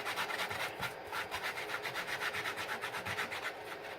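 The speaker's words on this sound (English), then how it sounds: "Let me just sweep this off." A brush sweeps debris off a freshly engraved workpiece on a precision drill/mill/engraver, a soft, steady rhythmic scratching of quick back-and-forth strokes, close but quiet.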